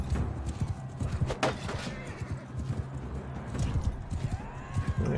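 In the Mount & Blade 2 Bannerlord video game, horses gallop around an arena, their hooves making continuous, dense clip-clop thuds at a steady moderate level throughout.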